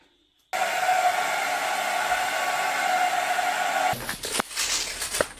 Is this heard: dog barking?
no